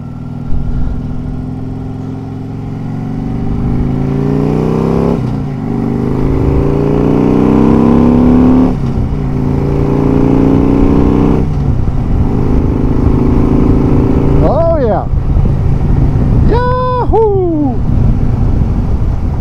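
Car engine revving hard through loud exhaust pipes on a hot day. A deep, loud, rising drone climbs through several gear changes close by, followed by a couple of sharp whistling or hooting tones near the end.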